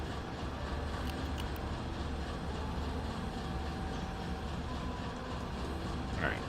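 A train in the video game Railroader rolls slowly into a yard, a steady low rumble of wheels and engine with faint clicks and a brief squeal near the end.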